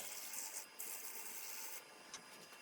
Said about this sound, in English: And then I'll sand it